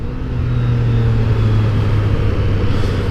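A Yamaha MT-09 motorcycle engine hums steadily while riding, a low droning rumble blended with constant wind noise, no voices present.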